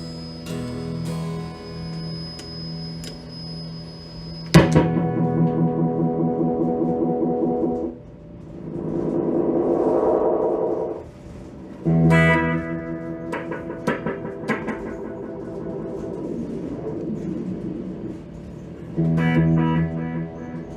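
An electric guitar played through a two-part echo and phaser pedal rings out in sustained chords with long echoing tails and a swirling phased tone. The signal is noisy, and the bursts come up loud between pauses.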